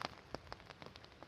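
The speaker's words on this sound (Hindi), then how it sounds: "आज हम आए हैं जंगल में और बारिश बहुत ज़्यादा हो रखी है" Heavy rain falls in a forest, a dense, steady patter of drops striking leaves and ground, faint and distant, with a few slightly louder individual splashes and no voices.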